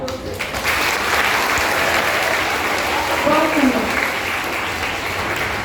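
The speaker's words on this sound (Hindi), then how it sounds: "बच्चों, अगर आप ताली बजा रहे हैं तो उसमें इतनी कंजूसी क्यों कर रहे हैं आप?" Children clap in broad, steady applause throughout a Hindi Day school ceremony, while a voice speaks briefly over the sound.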